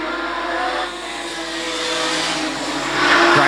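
Modified sedan race cars roar off the start of round four, a dense, loud wall of engines swelling and revving as the pack accelerates, with no voices over it.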